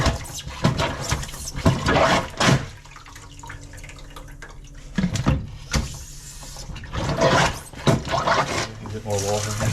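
Water poured into a drain blocked with packed pasta, splashing and gurgling in intermittent bursts with voices talking in between.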